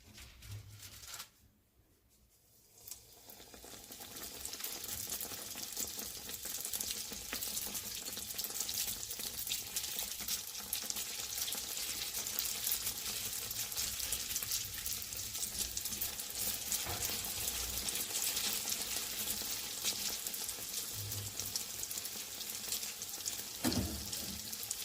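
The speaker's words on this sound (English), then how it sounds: "You need to have space for the donuts to fry nicely." Donuts frying in a saucepan of hot oil give off a steady, even sizzle and crackle that starts after a brief quiet moment and carries on with no speech over it.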